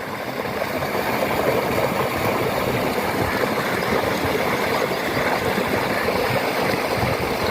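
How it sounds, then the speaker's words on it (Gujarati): Engine of a water tanker truck running steadily, a continuous loud droning rumble that stays even throughout with no pauses and no talking. "આ ટેન્કર આવવાના ચાલુ થઈ ગયા પાણીના"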